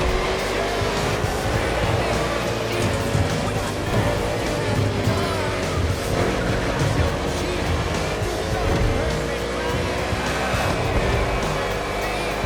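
NASCAR stock cars race on an urban street circuit in Honolulu, Hawaii, in The Crew Motorfest, engines droning steadily and loudly throughout with rising and falling pitch as cars jostle close together.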